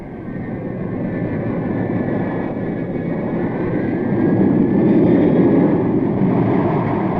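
A TAP jet airliner at Lisbon's Portela Airport gives a loud, steady engine roar that swells slightly midway, with a faint whine above it and no voices.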